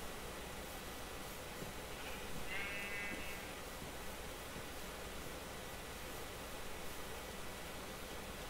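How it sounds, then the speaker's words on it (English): A sheep in modded Minecraft (GregTech pack) gives a single short bleat around the middle, fairly faint over a steady background hiss, with no talking. "All of these sheep."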